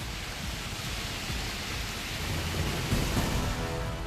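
Heavy monsoon rain pours steadily in Uttarakhand with low thunder rumbling underneath, a dense, constant wash of noise with no voices.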